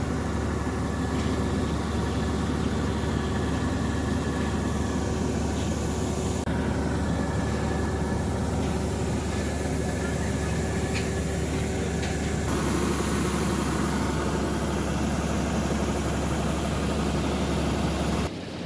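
A rice harvester engine runs steadily in a forest field, a continuous droning rumble with broadband noise. It holds constant for the whole stretch, apart from a couple of slight shifts in tone.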